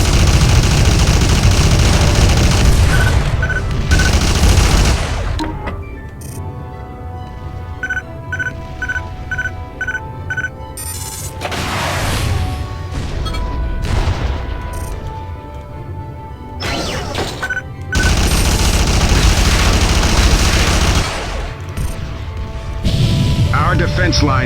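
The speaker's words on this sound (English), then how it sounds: "let's do it with guns" Spacecraft guns fire in the space combat game Freespace 2 in loud, dense bursts of rapid shots. Beeping interface tones and explosive crashes run through the bursts, and a loud roar fills the breaks.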